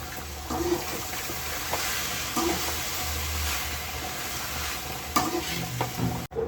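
Chillies and spices crackle and sizzle in hot oil, a continuous frying hiss broken by scattered pops and a few stirring clinks, close and moderately loud, with no talking.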